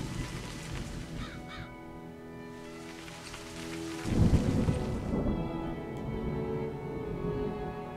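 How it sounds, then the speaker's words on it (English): Thunderstorm in the video game A Highland Song, steady rain hiss with a loud rumbling thunder roll midway and crows cawing in the background, no voices. "And eventually the storm just buggers off."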